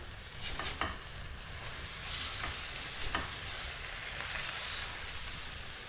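A large omelette fries in a pan with an even, continuous sizzle at moderate level, broken by a few light scrapes as a utensil cuts it down the middle, no voices.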